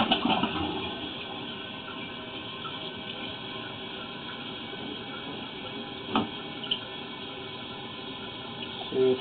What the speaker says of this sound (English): I'm going to flush it again, just so you get the idea